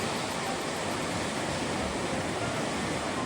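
Strong wind and rolling surf at West Beach on Lake Michigan in Indiana Dunes National Park on a rainy day form a dense, steady roar of broadband noise with no voices.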